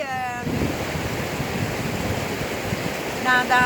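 River water flows past a bank outdoors, a steady broadband rush with wind buffeting the microphone, while faint voices and tonal sounds come in at the start and end.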